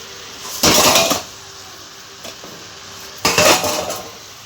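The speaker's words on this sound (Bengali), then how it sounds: "চলো ঢাকনাটা খুলে দেখি এখন সবজির জলটা শুকালো কিনা" A metal lid is lifted off a pan of cooking vegetables and potatoes, giving two loud, close clattering bursts of metal on metal separated by a quieter pause.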